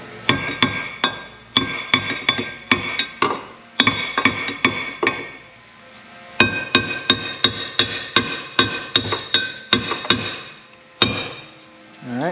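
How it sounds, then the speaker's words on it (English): Sharp metallic hammer blows knocking out a Geo Metro brake rotor ring out in quick bursts of several strikes, loud and close, with short pauses between the bursts. "I'll grab a little hammer so we can knock it out"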